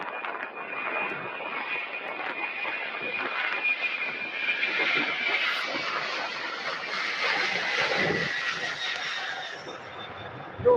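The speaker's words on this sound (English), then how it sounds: "We have a UPS 767 on the runway, now rolling out to departure." A UPS Boeing 767 jet rolls out on the runway for departure at Louisville, a steady broadband engine roar holding for about eleven seconds and swelling slightly midway, with faint talk underneath.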